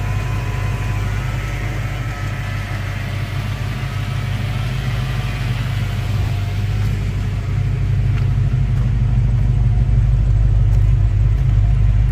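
A 1992 Ford Mustang Foxbody GT engine running steadily, a loud, constant low rumble heard up close with no talk over it.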